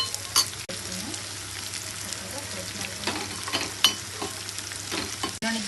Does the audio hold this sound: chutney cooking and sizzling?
yes